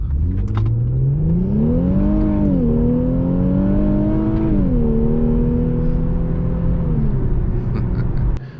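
A powerful car engine revs and accelerates, a loud, close droning roar whose pitch climbs, dips and climbs again through gear changes before easing off, with no talking.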